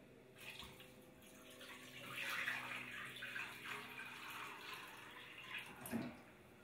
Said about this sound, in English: You're going to take 6 cups of water.